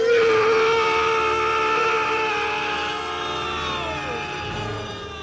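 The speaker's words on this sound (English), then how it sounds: "filled the warehouse with his voice, screaming." Chucky doll screaming in a warehouse, an audiobook sound effect: a sustained, loud, strained scream that wavers in pitch and fades slightly over several seconds, with no talk.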